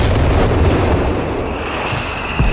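Heavy artillery barrage from the Company of Heroes 3 battlefield, a loud continuous rumbling roar of blasts filling the space with no clear separate impacts, brief and dense.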